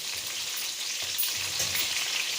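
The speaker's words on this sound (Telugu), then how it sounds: "చిల్లీ మిర్చి వేసుకోవాలి. వాటిని బాగా వేగనివ్వాలి." Chopped green chillies fry in hot oil in a home kitchen for a noodle dish, giving a steady, close, bright sizzle with small crackles and no one speaking.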